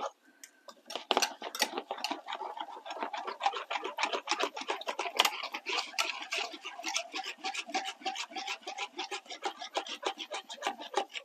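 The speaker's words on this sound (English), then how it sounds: "Right, whisk that." Whisking a lumpy mixture for a raspberry slice in a bowl, rapid rhythmic scraping and clinking strokes that continue steadily and fairly close throughout.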